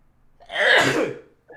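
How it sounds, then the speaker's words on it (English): A single powerful sneeze bursts out close and loud, rising sharply and fading over about a second during a COD Mobile league esports match broadcast. "Powerful sneeze."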